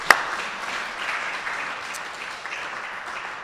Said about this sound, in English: I think our staff deserves a great round of applause for all the hard work that they do.